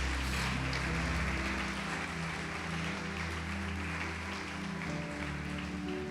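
Church congregation applauding during an evangelical Portuguese-language sermon, a dense, sustained wash of many hands clapping at steady loudness for several seconds, with a low musical drone underneath and no talk over it.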